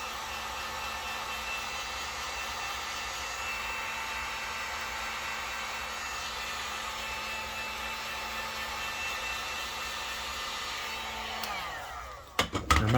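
A heat gun warms grey rubberized grips on a Girsan MC28SA pistol, a steady close airy whir that holds level for about twelve seconds, then cuts off into a few handling knocks.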